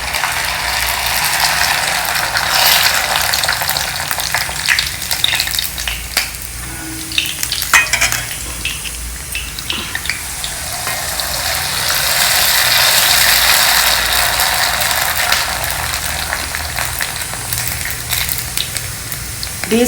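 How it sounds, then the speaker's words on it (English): Sabudana papad crackles and sizzles as it fries in hot oil, alongside a South Indian vegetarian lunch of coriander rice; a steady, close, busy crackle runs throughout with no talking. "I am just frying some sabudana papad here to go with the rice."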